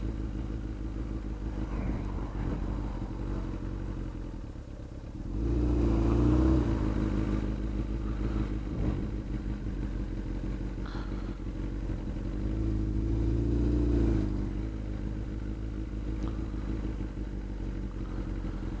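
A motorcycle engine droning steadily while riding at speed, a loud continuous low rumble mixed with wind, swelling twice as the throttle opens.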